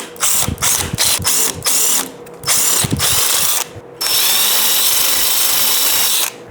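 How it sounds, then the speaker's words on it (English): A power drill bores epoxy out of a golf club shaft in several short bursts, then runs one longer continuous stretch, loud and close with ratcheting mechanical texture. "Let's find a drill head to drill that out."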